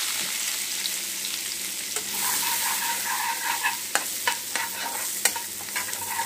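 Onions frying in hot oil for an egg keema curry make a continuous close sizzle, joined partway through by repeated stirring scrapes and clinks of a spoon against the pan.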